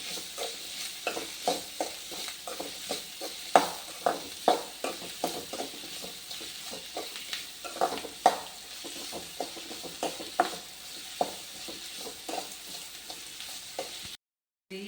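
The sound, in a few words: small onions frying in a pan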